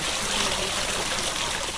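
A steady wash of water flows and trickles from a backyard pool waterfall, close and continuous, with no voices over it.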